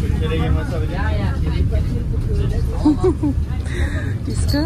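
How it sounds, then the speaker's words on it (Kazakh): Low engine rumble and road noise inside an old bus while riding, steady throughout beneath close conversation and a voice. "Ескі автобуста отырмыз."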